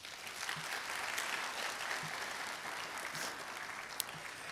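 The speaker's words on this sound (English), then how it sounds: "graduates, give them a round of applause" A graduation audience applauds the teachers at a summer ceremony, a steady wash of clapping from many hands sustained through the whole stretch, fairly even in loudness with no voices standing out.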